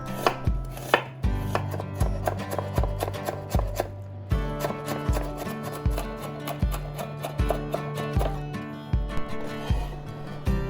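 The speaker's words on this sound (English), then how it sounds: "quarter of small size of onion, finely chopped." A small onion being finely chopped with a knife for a summer salmon salad, a fast, steady run of crisp blade knocks on a cutting board, close and loud, continuing throughout without speech.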